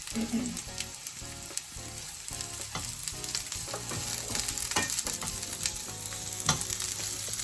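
Cabbage sizzles steadily as it fries in a pan for a vegan jerk jackfruit wrap filling, a continuous close crackle with occasional louder pops and stirring scrapes, swelling slightly partway through, with no talking.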